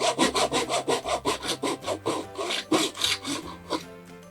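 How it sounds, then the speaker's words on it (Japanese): Hand saw cutting cheap 100-yen-shop wood held against a saw guide, with about sixteen quick, even back-and-forth strokes rasping close by and no talking. "ちゃんと垂直に、ある程度ですけどね、ある程度垂直に切れますよ、みたいな、ガイドですね。"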